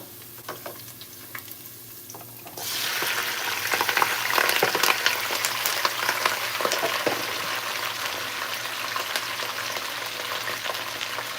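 Napa cabbage, the harder part, hits a hot pan over a reduced flame and starts sizzling and frying steadily and close up after a quiet start, with occasional crackles and stirring clicks.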